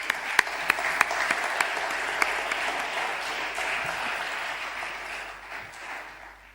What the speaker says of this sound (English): can you please have a round of applause for our dynamic staff advisors?